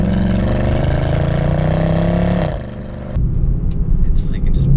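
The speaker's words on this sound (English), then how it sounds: "completely wild. The engine becomes louder." A Mercedes-Benz C63 AMG Black Series engine idles and revs in sport mode, dropping briefly in pitch before coming back with a deeper, burbling tone as the exhaust valves open; a voice speaks over it.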